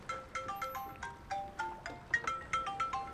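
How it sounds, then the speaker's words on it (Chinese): A mobile phone rings with a bright, repeating electronic melody of short tonal notes, steady and moderately loud, with no voices over it. "我接个电话"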